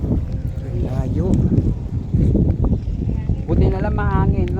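Gusty wind buffets the microphone over a low rumble of water and a boat at Laki Beach in Mariveles, Bataan, while people talk throughout.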